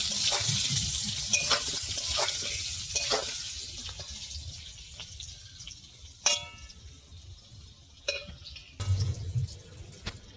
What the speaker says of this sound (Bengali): আলুটা লাল লাল করে ভেজে নেব আমি।